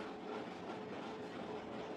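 A Mangalore Express train rumbles at Thane station, a faint, steady low roar of rail carriages heard from a distance with no distinct clicks.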